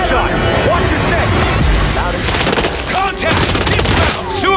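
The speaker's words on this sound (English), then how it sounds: "Gunshot! Watch your step!" Gunfire in the video game Hitman World of Assassination, loud rapid bursts and booming shots crowding the mix while game voices shout commands over the fighting.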